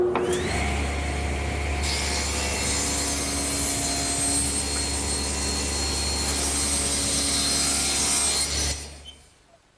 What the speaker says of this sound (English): And I'll do that at the table saw.